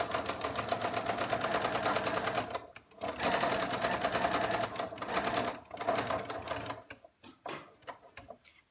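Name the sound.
sewing machine stitching fabric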